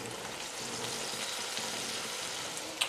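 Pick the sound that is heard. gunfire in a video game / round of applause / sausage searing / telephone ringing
sausage searing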